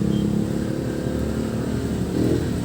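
A small blower fan fitted to a Bluetooth amplifier runs with a steady, close, continuous hum and low whirring drone, unbroken and even in level throughout, with no talking.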